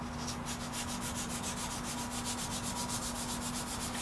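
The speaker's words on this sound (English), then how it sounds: "The spot putty sands really easily" Spot putty being sanded by hand with a small piece of sandpaper, a close, rapid, steady back-and-forth scraping rhythm continuing throughout, with a faint constant hum underneath.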